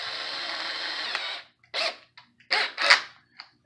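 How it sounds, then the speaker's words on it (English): A drill fitted with a 3M strike-off wheel whines steadily up close, then cuts into short bursts as the wheel eats pinstripes off a car body, with quiet pauses between grinds. "you just put that in the drill"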